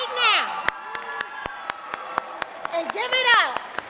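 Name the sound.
applause and cheering for graduates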